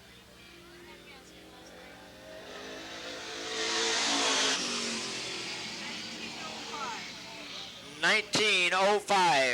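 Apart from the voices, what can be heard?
race car lapping at Eugene Speedway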